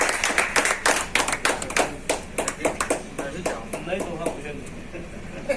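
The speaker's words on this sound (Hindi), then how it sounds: "तालियों के साथ" Audience clapping in welcome at a human rights organisation gathering, a run of sharp, irregular hand claps that rises and fades over several seconds, with voices talking over it.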